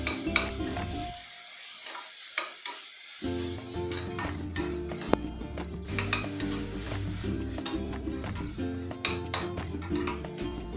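Garlic and ginger sauté in oil in a pan for mushroom biryani, a dense close sizzle with repeated scraping and clattering of a spoon against the pan, dropping away briefly near the start before resuming; no speech.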